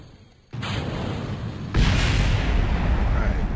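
A rocket explodes in the video game Kerbal Space Program. After a quiet start there is a sudden burst of roaring noise, then a second, louder blast swells into a sustained rumbling roar.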